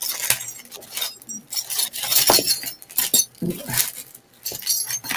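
A bag of Silpada rings and other jewelry at an auction, shaken so the metal pieces chink and clink in repeated bursts, close and fairly loud, with no talk.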